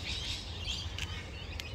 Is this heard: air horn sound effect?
no